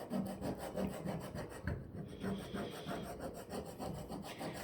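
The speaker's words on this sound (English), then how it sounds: "I'm just gonna scrape it on there as hard as I can" Vinyl is scraped hard onto a wooden fall sign in steady, rhythmic rubbing strokes, close and continuous with no talking.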